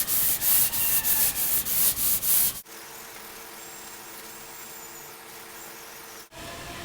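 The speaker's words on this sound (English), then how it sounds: "I'm going to sand this way just a little bit." Rhythmic back-and-forth rubbing of sandpaper by hand over auto body finishing glaze, loud and close, followed by a steady quieter hiss after the strokes stop.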